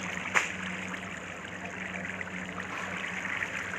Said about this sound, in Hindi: इस पानी के वाटर सोर्स बताओ, पूरा पानी पानी हो गया है।